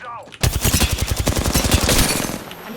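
Rapid automatic gunfire in Apex Legends: one long burst of fast, evenly spaced shots lasting about a second and a half, loud and close, then fading into a ringing tail, after a brief voice just before it begins.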